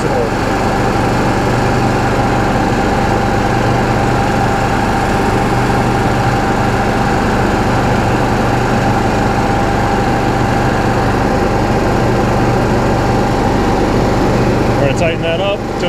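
Onan generator engine running loudly and steadily throughout during a governor adjustment, a constant droning mechanical roar with no breaks.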